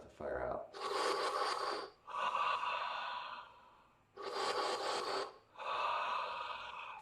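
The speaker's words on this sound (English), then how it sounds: "breath of fire out." Breath of fire breathing exercise: four loud, close, forceful breaths, each lasting about a second, in alternating inhale and exhale pairs with short gaps.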